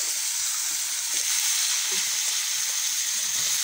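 Bitter gourd frying in a pan gives a loud, steady hissing sizzle that fills the whole stretch with an even wash of crackle and no talking.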